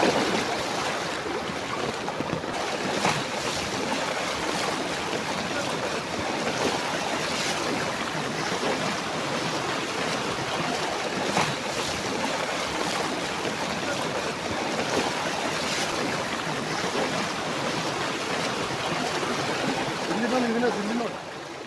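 Heavy rainwater floods a school entrance and rushes through like a river, making a dense continuous roar of flowing water that stays loud throughout.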